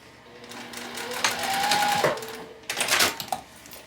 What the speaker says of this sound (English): sewing over the tape and the lining, back stitching over these teeth, and then continuing down to finish out sewing that edge